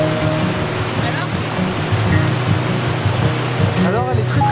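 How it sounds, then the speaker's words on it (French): Water from an outdoor shower splashes and pours steadily at a campsite beside a river, a dense, continuous hiss close by with no pauses throughout. "Je prends ma douche."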